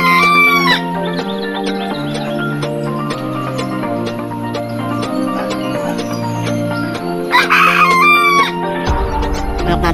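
A rooster crows loudly, then again near the end, over a steady background of tonal music.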